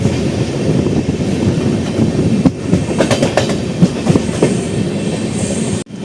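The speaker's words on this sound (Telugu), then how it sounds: "మన ట్రైన్ ఇప్పుడే పాకాల అయితే రీచ్ అయింది" The Kanyakumari Express rolls into Pakala junction with a steady, loud rumble of wagons and rhythmic clickety-clack of wheels over rail joints, punctuated by a few sharp clanks near the end.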